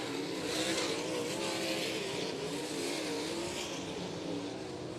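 A race car engine roars steadily as it comes through the final turns toward the finish at Crystal Motor Speedway in a GLSS Michigan A-Main feature, a distant, continuous drone with no voices.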